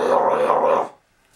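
A voice imitates a death metal growl with one short, deep, rasping guttural burst lasting under a second, close and loud, then falls silent.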